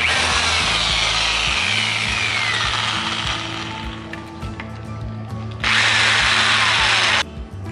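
A power tool bores out and enlarges a hole in the body of a TVS XL 100 moped, grinding steadily and loudly, easing off midway, then surging back at full strength for a couple of seconds before dropping again.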